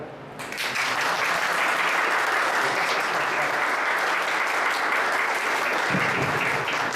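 An audience at a 97th-birthday gathering and spiritist talk bursts into loud, sustained applause that starts abruptly and holds steady for several seconds, dense clapping filling the room.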